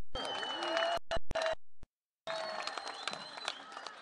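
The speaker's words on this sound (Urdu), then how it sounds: "ایک بڑی تالی تو بنتی ہے نا" Applause and cheering rise from the crowd at an outdoor political rally in Balochistan, a loud wash of clapping that cuts out briefly in the middle before resuming.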